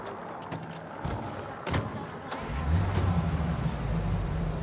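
A period car idles and accelerates in Mafia: Definitive Edition, its engine hum rising and settling under a few sharp clicks and knocks, moderately close and steady throughout with no one talking.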